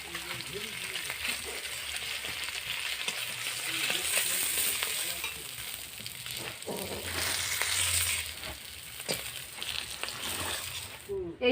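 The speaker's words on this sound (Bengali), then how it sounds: "ইলিশ মাছগুলো আমার ভাজা হয়ে গেছে" Hilsa fish frying in oil in a pan, a steady sizzle with occasional stirring and scraping clatter, close up, while a person talks over it.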